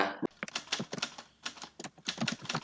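Fingers type quickly on a computer keyboard in a quiet room during Microsoft Word work, making close, crisp, irregular bursts of key clicks with brief pauses between runs.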